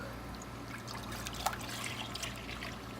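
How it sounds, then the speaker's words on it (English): Milk poured into a pot for a cheese sauce, a soft continuous trickle, faint and close, over low background hum. "I'm going to add in, well, some milk"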